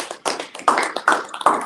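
A short burst of hand clapping at a Torah portion gathering, a few people clapping unevenly and close by for under two seconds.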